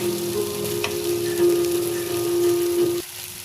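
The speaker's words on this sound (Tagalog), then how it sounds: "Ginisang sardines with gulay." Sardines with vegetables sautéing in a pan, a close, steady hiss and crackle of frying that holds evenly for about three seconds before dropping lower, with a constant hum underneath.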